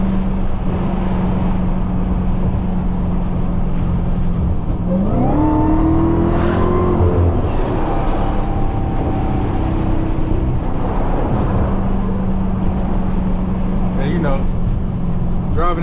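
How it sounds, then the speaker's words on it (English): Dodge Hellcat Demon 170 with 900 to 1200 horsepower driving at night, a steady engine drone with a rising whine as it accelerates mid-way, heard from inside the car. "Driving in my goddamn 900 horsepower, 1200 horsepower Hellcat Demon 170."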